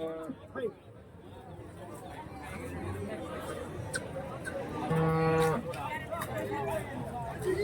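Cattle at a livestock market in Santhipuram, Andhra Pradesh, with a clear moo rising around the middle amid steady crowd chatter and hubbub; people talk throughout.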